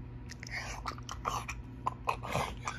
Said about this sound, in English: Chew with your mouth closed.